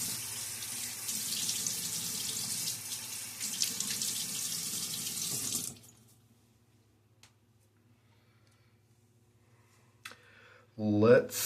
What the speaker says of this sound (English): I'm going to get my face wet.